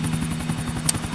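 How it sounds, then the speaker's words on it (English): A helicopter in Grand Theft Auto IV thumps with fast, regular rotor beats and a steady engine drone, loud and close, with no talk over it. "Helicopter time!"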